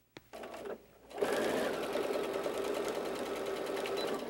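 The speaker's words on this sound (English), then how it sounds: "So make sure you're sewing on this edge here." An electric sewing machine stitches fabric for a French bulldog softie: after a brief start-stop burst it settles into a steady, close, whirring run of rapid needle strokes with no talk.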